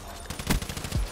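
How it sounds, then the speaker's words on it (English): Shotgun fire from Call of Duty Black Ops 3 gameplay: a couple of close, heavy booming blasts about half a second apart over a dense, noisy in-game background, with no talk. "Yep, shotgun."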